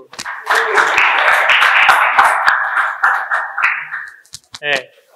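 A classroom of students claps after a presentation in a pedagogy lesson. There are about four seconds of dense, close clapping, with some voices mixed in, before it dies down into a few scattered sounds.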